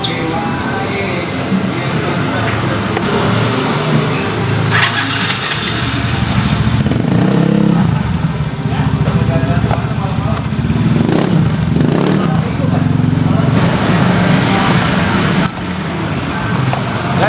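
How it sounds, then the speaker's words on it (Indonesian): Heavy traffic jam of cars and motorcycles, with engines idling and revving close by in a steady, loud roar that swells now and then as bikes pass. "ini lihat macet tuh"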